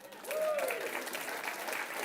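An audience at an announcement event breaks into steady applause that fills the room, with a brief whistle cutting through the clapping near the start.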